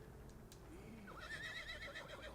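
Horse in the video game Red Dead Redemption 2 whinnying at close range, a wavering, rising neigh over soft hoof shuffling.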